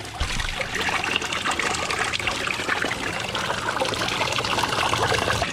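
Water trickles and splashes steadily and continuously from a small backyard garden pond waterfall, close by, a constant bubbling flow with no other sounds.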